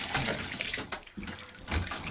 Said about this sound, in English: Right now you're just getting the soapy water out.